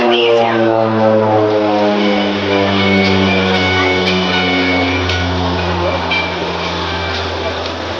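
An OV-10 Bronco twin-turboprop aircraft flies a display at Clacton Airshow, its propeller drone loud and sustained as it passes, with a narrator's voice over the engine noise.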